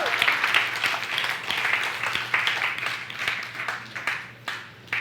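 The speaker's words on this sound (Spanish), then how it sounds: "Dale un aplauso al Señor" A church congregation at a Spanish-language worship service applauds the Lord with steady, moderately loud clapping from many people, alongside a low constant hum, swelling in waves before easing off.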